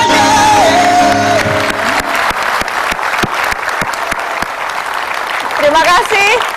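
Audience applause for a singer at the end of a live televised talk-show performance, the final sung notes fading into a dense, sustained clapping with scattered cheers, loud and close, with a voice rising briefly near the end.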